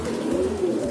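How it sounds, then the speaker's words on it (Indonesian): An old-type ringed homing pigeon coos close by in a soft, continuous, low rolling call. "Coba saya ambilkan dulu ya merpati pos dengan ring tua ya."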